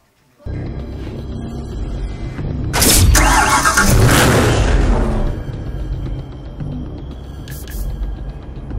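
Bugatti Veyron 16.4 engine in the Need for Speed Hot Pursuit video game starts with a sudden loud burst, swells into a heavy roaring rev for a couple of seconds, then settles into a steady deep idle.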